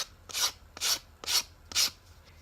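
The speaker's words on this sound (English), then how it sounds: "Then you're going to take your sandpaper" Sandpaper rubs along the edges of a split card in four even, rasping strokes about half a second apart, close and clear with quiet gaps between and no talking.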